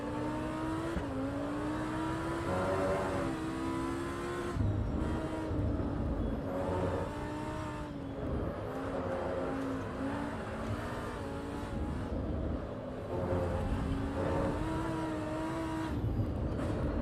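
A Lamborghini Huracan STO engine in the racing game Assetto Corsa Evo, revving and shifting steadily through gears, loud and continuous for the whole stretch with no talk over it.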